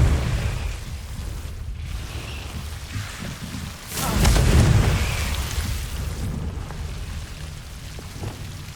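A Confringo blasting spell explodes in the Hogwarts Legacy video game, a loud, deep boom midway through that swells and slowly rumbles away over a noisy, hissing background.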